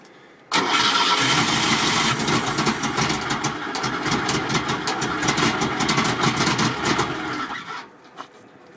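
Old ZAZ car engine, unstarted for ten years, cranks and catches abruptly, then runs roughly and unevenly at a loud, nearby idle for several seconds before cutting out.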